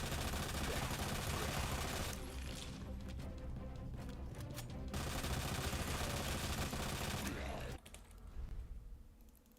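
Sustained rapid machine gun fire from a Resident Evil 2 session, loud and continuous for most of the stretch, briefly thinning near the end before a final short burst.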